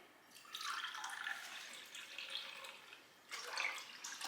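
Two cups of water are poured for pickling radishes, a soft splashing trickle that runs steadily for a few seconds, quiet and close, with no voices.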